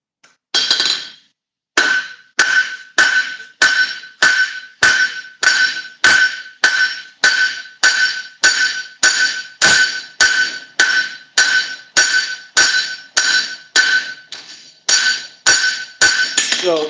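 A hammer strikes hot steel while forging leaf-shaped wall hooks, with about two dozen loud, close, bright ringing blows in a steady, even rhythm after a short pause near the start.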